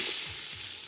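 Chopped onions frying in a pan for a village-style dum biryani, a bright, steady hiss of hot oil, close and even, with no voices.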